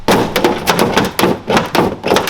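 Someone jumps again and again on a boxed carbon fiber GT500 hood, and each landing gives a loud, close, hollow thud. The impacts come in a quick, uneven series of about eight over a couple of seconds.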